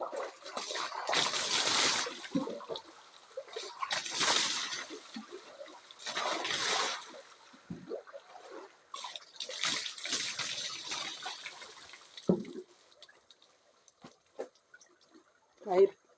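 Water from a spring splashes and gushes in uneven bursts, loud up close, with a person talking over it and quieter gaps between surges.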